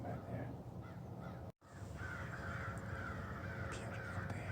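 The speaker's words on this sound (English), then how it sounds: "Crows are going crazy." Crows caw repeatedly from a distance over an open field during a whitetail deer hunt, their harsh calls rising above steady outdoor ambience with a brief cut partway through.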